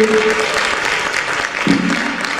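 Steady applause from a church congregation fills the whole stretch, dense clapping at an even level with faint voices mixed underneath.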